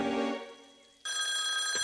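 A cartoon telephone bell rings from a prank call, with a loud ringing burst that fades, a brief pause, then a second sharp bright ring with no one talking.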